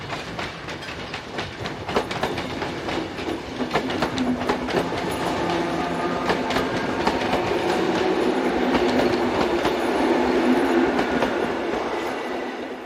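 Electric multiple unit train of the AM63 series arriving with a local service for Brussels, wheels clattering rhythmically over rail joints with a steady rolling rumble that builds as it passes close by.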